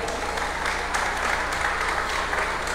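Wedding guests in a church in Quito applaud steadily, a dense, continuous clapping from a crowd filling the space for the whole stretch.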